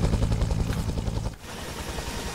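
A military helicopter in Arma 3's Vietnam setting thumps with rapid rotor chop, loud and close, then drops slightly in level and continues steadily.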